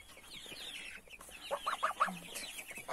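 Hens from a parent flock kept for blue-egg layers cluck close by in a short run of rapid, bright calls, a few fainter clucks before and after, over a quiet yard with no talk.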